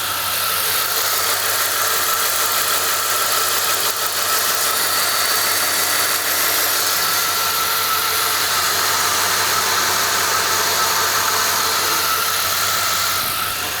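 A 1998 Jeep Grand Cherokee with the 5.9 V8 idles steadily, recorded close to the camshaft area, giving an even, continuous engine hum and hiss with no audible ticking throughout.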